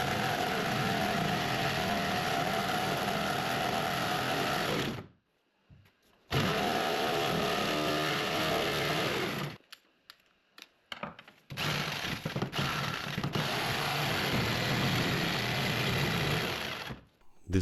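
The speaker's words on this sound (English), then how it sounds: "then I use the grinding wheel to finish everything up" Grinding wheel shaping a walnut root for a rustic coffee table, a steady high-pitched whirring grind that cuts out briefly twice and resumes in bursts, close and loud.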